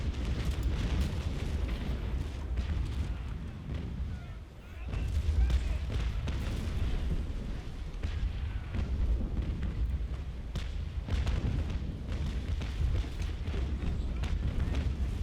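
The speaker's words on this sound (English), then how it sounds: "One final broadside into John." Ship cannons fire a broadside in the naval game Naval Action Legends from the frigate Essex, a dense rolling barrage of deep booms and rumbling blasts continuing steadily for many seconds, loud and close.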